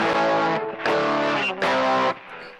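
An electric guitar plays through a distortion effect on a TASCAM DP24 virtual amp, three loud, sustained gritty chords each cut off sharply, with brief gaps between them.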